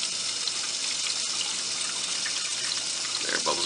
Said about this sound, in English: The air bubbles are starting to come out.